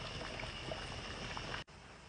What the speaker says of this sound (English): We have the string beans and the potatoes boiling.